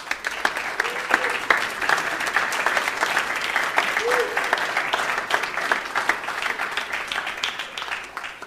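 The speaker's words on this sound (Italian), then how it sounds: "Diamo un applauso a loro." A church congregation applauds during an Italian-language sermon, dense steady clapping filling the whole stretch at an even level without letup.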